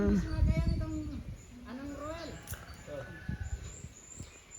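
Pigeons coo softly and intermittently in the background while people talk over them nearby.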